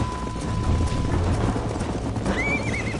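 Horse hooves clip-clop at a steady gallop in the Red Dead Redemption video game, a close rhythmic beat over ambient game sound, with a whinny near the end.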